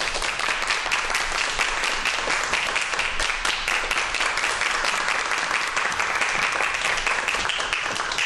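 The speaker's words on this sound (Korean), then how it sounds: "박수 맞아주세요." An audience at a science lecture applauds to welcome the speaker, with loud, continuous clapping from a sizable crowd at an even intensity throughout.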